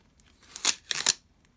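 Tape is peeled off an Amazon Kindle Paperwhite 10th-generation box in two quick ripping pulls, close and crisp, with near silence around them.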